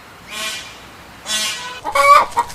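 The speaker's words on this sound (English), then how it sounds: "Hen," A hen clucks close and clear in three bursts, two drawn-out calls followed by a quicker run of excited clucks near the end, with no voices.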